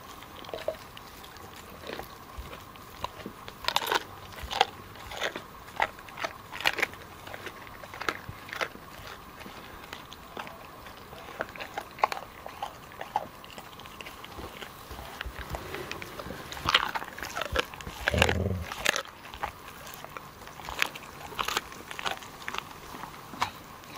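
A dog crunching and chewing chicken bones: repeated sharp, close bites and cracks in irregular bursts over a quiet background, with a louder cluster of chomping near the end.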